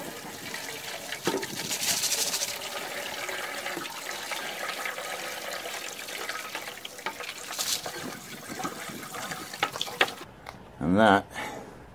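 Water poured over fluorite aquarium substrate in a sieve over a bucket, a rushing, gritty wash with splashes and a louder gush near the end, under occasional talk.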